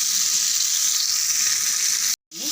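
Seela fish fries in hot oil, a loud, steady sizzle that holds close and constant before a brief break and a faint return.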